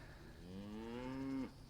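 Cows on a farm giving one long rising moo that swells and holds for about a second before cutting off, close and clear over quiet background.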